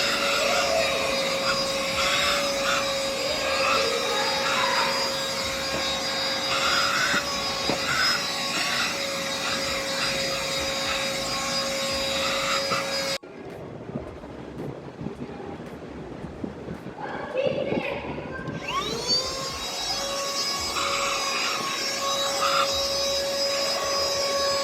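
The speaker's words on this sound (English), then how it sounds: "Vacuum cleaner." A corded car vacuum cleaner with HEPA filter and LED light whines loudly and steadily up close, cuts off abruptly midway, then spins back up and runs again.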